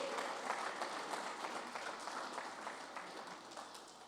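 A church congregation applauding during a Portuguese-language evangelical service, with sustained crowd clapping that stays fairly even and moderately loud throughout.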